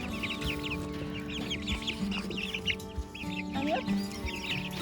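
Backyard garden chickens clucking steadily at close range, with soft overlapping calls and a constant low hum underneath, no talking.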